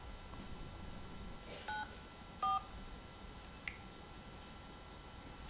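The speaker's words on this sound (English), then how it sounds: "Who you dialing with that old phone?" A handful of short keypad dialing beeps from an old phone, spaced apart and fairly faint against a quiet room with no talk.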